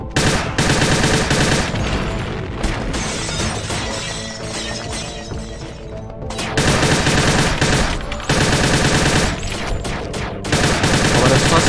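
Gunfire in the video game Perilous Warp, aimed at a barrel: loud, sustained bursts of rapid shots with crashing impacts come in several long volleys, with a short lull in the middle.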